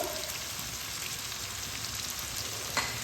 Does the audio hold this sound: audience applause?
no